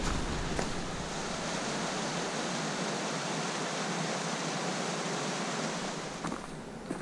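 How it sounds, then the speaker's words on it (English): A small waterfall beside the Eagle Rock Loop trail in Arkansas's Ouachita National Forest pours with a steady, close, broadband rushing hiss, even throughout and alone, with no voices. "Go check out this little waterfall."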